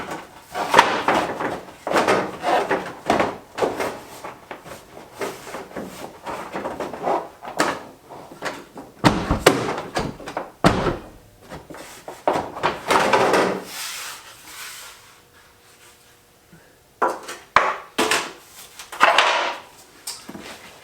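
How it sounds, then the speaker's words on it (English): Door of a Nissan R34 Skyline four-door sedan, being fitted with GTR widebody parts, opened and shut repeatedly, giving a string of close, solid thumps and latch clunks amid workshop rustling and handling noise, with short quiet gaps between. "as long as I'm able to open and close the door without it grinding on anything"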